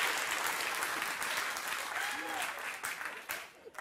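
A large audience applauds steadily and densely at a political talk, sustained clapping throughout that thins slightly near the end, with a faint voice rising briefly beneath it.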